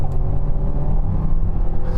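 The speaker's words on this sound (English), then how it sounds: "let's give it a bit of beans around here and see what she does. Chucking it in." A 2025 KGM Torres SUV accelerating hard through a corner, a loud, steady low engine drone and road rumble heard from inside the cabin, without gaps.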